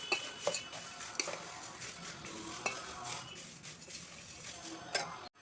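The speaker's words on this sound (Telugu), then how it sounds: "బాగా మిక్స్ చేసుకొని" Jowar flakes are stirred and mixed in a bowl with a spoon, a soft continuous scraping rustle with light ticks of the spoon against the bowl, close and fairly quiet, no speech.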